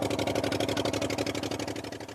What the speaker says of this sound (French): Le bruit du moteur écorche les tympans.